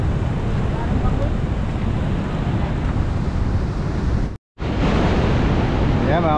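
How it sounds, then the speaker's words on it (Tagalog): Strong current and churning waves at Dadong Dam make a loud, constant roar with no voices, broken only by one brief dropout. "lakas ng agos. Oh, kumukulo yung alon."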